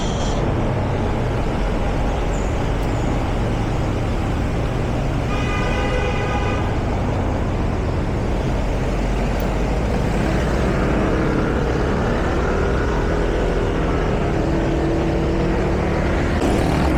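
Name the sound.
road traffic on Mabini Bridge in the early morning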